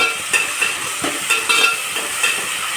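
Tomatoes, onions and salt being stirred while frying in a pan for upma, with a steady sizzle and repeated scraping strokes of the spoon at a regular pace, close and fairly loud, no voices.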